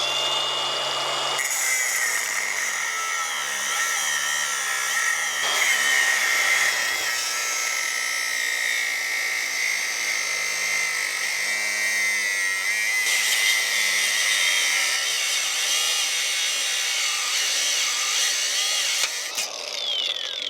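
A power tool cuts a truck half fender part nearby. A continuous high-pitched whine and grind runs for the whole stretch at moderate loudness, with no talking.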